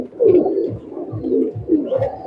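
Close, loud cooing from a Maya pigeon, a run of deep, pulsing coos that rise and fall in a steady rhythm and fill the whole stretch.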